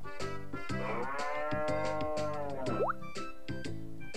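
A cartoonish cow moos in the farming game Harvest Moon: A New Beginning, one long drawn-out moo with a rising squeak near the end, loud and close over soft game music.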